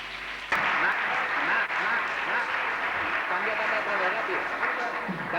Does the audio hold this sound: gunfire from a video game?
no